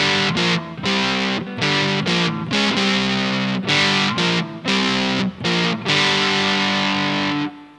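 Electric guitar on a single-coil pickup through an Engl E520 tube preamp, heavily distorted, plays a loud chugging riff of short chords separated by brief gaps.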